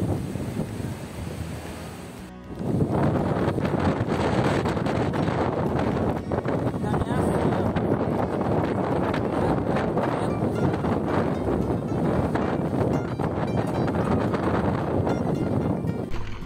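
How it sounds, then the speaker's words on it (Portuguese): Wind roars loudly and steadily against the microphone while riding a motorcycle, a dense buffeting rush that jumps up after a quieter opening and persists to the end. "até um ventinho de nada aqui"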